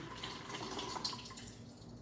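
A glue and water mixture pours steadily into a bucket that already holds glue, giving a continuous close splashing, trickling wash with no pauses.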